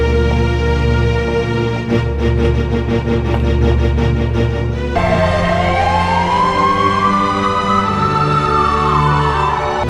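An ambulance siren in a Hindi thriller film scene: a loud steady tonal blare that switches partway through to a rising and falling wail, continuous and close, with no voices.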